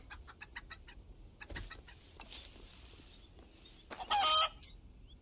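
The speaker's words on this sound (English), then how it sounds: "This chicken can walk through walls." A chicken in a video game gives quick clucks in a brisk run at first, then scattered softer sounds, and one loud, brief squawk near the end.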